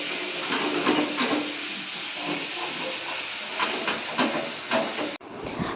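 Chicken frying in a pan gives off a steady, close sizzle with scattered crackles and pops that run unbroken for several seconds before cutting off abruptly near the end.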